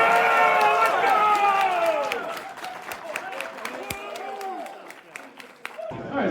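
An audience at a cosplay event claps and cheers, the applause loud at first then thinning into scattered claps, with voices and chatter mixed in.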